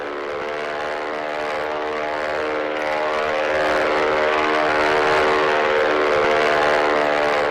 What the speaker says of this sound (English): So let's watch him depart.